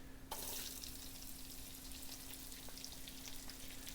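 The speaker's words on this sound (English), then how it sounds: "I'm going to add the chopped onion" Chopped onion, about half a large one, hits hot oil in a pan for South Indian spiced potatoes and sets off a sudden steady sizzle that keeps crackling close up, with no talking over it.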